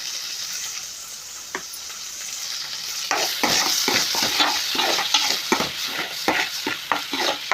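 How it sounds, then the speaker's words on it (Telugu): Spices with chili powder and salt fry in a pan. A light sizzle is broken after a few seconds by a quick series of scraping stir strokes, close and fairly loud, with no talking. "ఇలా బాగా పచ్చివాసన పోయే వరకు వేయించుకోవాలి."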